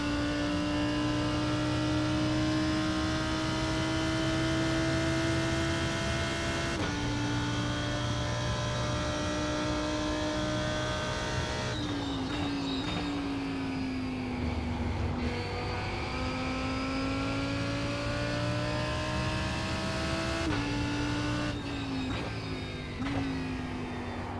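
Race car engine in a racing video game, a sustained high whine that repeatedly climbs in pitch through the gears and drops at each shift, loud and continuous without talk.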